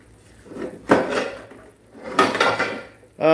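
Pots and pans clatter in a home kitchen while someone digs through cookware looking for a pan lid, with two bursts of metallic clanking and banging separated by a short pause, and a final knock at the end.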